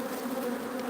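Honey bees swarming around an open hive with five frames of brood, giving a steady close buzz with a droning hum.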